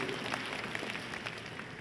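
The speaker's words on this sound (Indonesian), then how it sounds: "Tepuk tangan sekali lagi deh buat kita semua Bapak Ibu" A church congregation applauds during a sermon, the clapping a faint, steady, dense patter heard from a distance with no talk over it.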